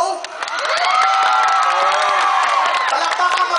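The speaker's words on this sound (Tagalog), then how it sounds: "Pumalakpak nga lahat ng mga bagets" Children and teens in a variety-show audience clap, cheer and shout in a loud, continuous crowd roar with scattered whoops.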